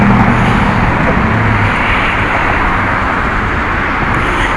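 Cars drive past on a busy street, giving a loud, continuous wash of traffic roar with engine hum underneath and no clear breaks between vehicles.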